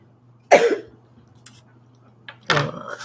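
Two sharp coughs from a person with COVID, one near the start and another about two seconds later, close and fairly loud over a low steady hum.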